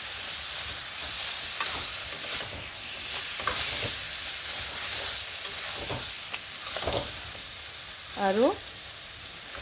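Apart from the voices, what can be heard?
taro (kochu) frying in a pan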